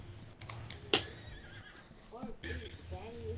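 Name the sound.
person imitating a horse neighing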